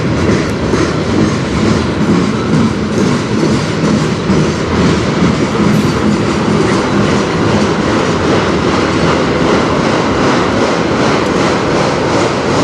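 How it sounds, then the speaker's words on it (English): A train on the Strathroy Sub near Sarnia rolls past close by, gathering speed, with steady clickety-clack of wheels over rail joints and a loud, continuous rumbling roar throughout, no voices. "This is train number 6"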